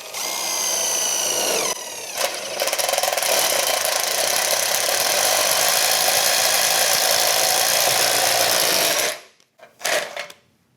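A DeWALT impact driver fitted with a chuck attachment cuts steadily and loudly with a high, whining drill tone for about nine seconds, then stops abruptly, followed by a brief final burst.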